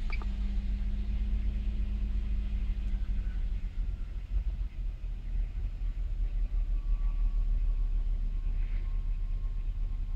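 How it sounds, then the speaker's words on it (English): A Lexus ES300 engine idles steadily after starting, a low continuous rumble with no speech, heard during diagnosis of a dirty MAF sensor and fuel trim numbers. "Start the engine."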